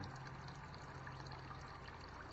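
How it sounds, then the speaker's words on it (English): A natural spring flows in a steady, continuous trickle and gush of water. It is faint and unchanging, with nothing else standing out. "I'm going to let you listen to the sound of the spring for a while."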